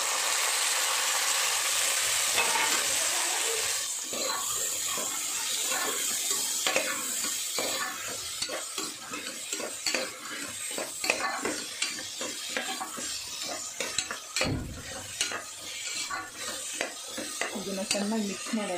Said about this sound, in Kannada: ಅದೊಂದು ಸ್ವಲ್ಪ ಫ್ರೈ ಆದಮೇಲೆ ಗ್ರೀನ್ ಚಿಲ್ಲಿ, ಮತ್ತು ಈ ಕಟ್ ಮಾಡಿರುವಂಥ ವೆಜಿಟೇಬಲ್ಸು,